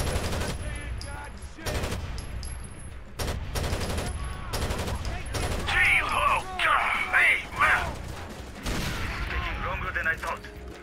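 Gunfire in the video game Rainbow Six Vegas, set in downtown Vegas, with bursts of shots and explosive cracks scattered through the clip, mixed with game sounds and a voice talking over the action.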